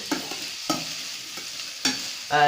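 Pirandai (adamant creeper) sautéed with salt in a pan: a few separate spatula scrapes and stirring strokes over a soft, low sizzle, close and fairly quiet, with no voices.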